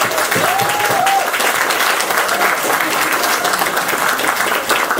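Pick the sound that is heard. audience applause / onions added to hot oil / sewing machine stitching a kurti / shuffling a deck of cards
audience applause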